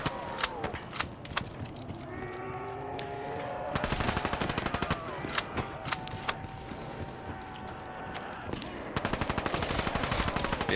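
Light machine gun fire in Black Ops 3 custom Zombies, dense bursts of rapid automatic shots in long runs with short breaks, loud and close amid game effects.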